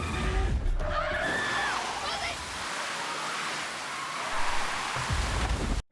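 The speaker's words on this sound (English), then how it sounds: "no way they caused the car accident." Car crash with skidding tires in a tense TV drama scene: a sharp screech and broad rushing noise build over a steady dark hum, ending in an abrupt cutoff, with a voice briefly heard at the start.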